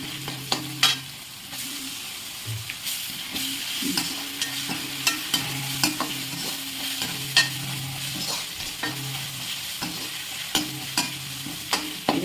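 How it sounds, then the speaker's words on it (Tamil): Onions sautéing in a pan with ginger garlic paste for a chicken gravy, a steady sizzle broken by repeated sharp scrapes and knocks of a spoon stirring, close and alone with no talking. "வதங்கிச்சான்னு பார்த்துட்டு நம்ம இஞ்சி பூண்டு பேஸ்ட்டு போடுறோம்"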